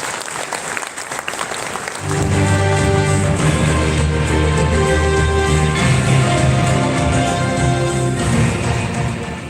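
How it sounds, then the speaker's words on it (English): Loud, sustained applause from a conference audience welcoming a speaker on stage at a Hisense ASEAN partner event, joined after a couple of seconds by upbeat walk-on music that plays beneath the clapping throughout. "Big applause and only welcome him"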